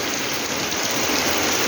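Heavy rain pours down in a steady, dense broadband hiss, loud and continuous throughout with no breaks.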